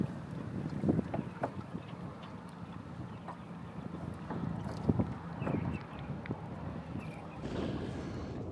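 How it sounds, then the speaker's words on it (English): Strong wind buffets the microphone while boating from a jon boat on a saltwater creek near Sunset Beach, North Carolina, a constant low rumbling gust noise with repeated thumps and surges throughout, and no voices. "Super windy today."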